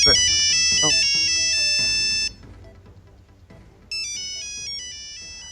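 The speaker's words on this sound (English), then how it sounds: "I just had a phone call which temporarily just paused things." A phone ringtone plays a loud, bright, repeating melody, breaks off into near silence for a couple of seconds, then starts again just as strongly.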